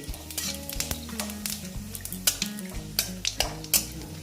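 Dried red chilies and panch phoron fry in oil with a steady close sizzle, broken by clinks and scrapes of a metal spoon against the pan and rising crackles toward the end.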